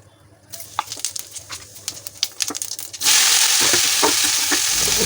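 Chopped okra (bhindi) hitting a hot pan, with scattered clatter and stirring at first, then a loud, steady sizzle of frying that continues to the end; no one talks.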